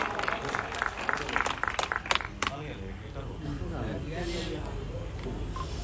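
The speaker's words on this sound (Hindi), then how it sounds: "शानदार तालियां।" An audience at a public gathering in Patna, Bihar, claps in a brief, fairly loud burst over the first couple of seconds, then it fades as people talk.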